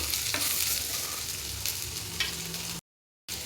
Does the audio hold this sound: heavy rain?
no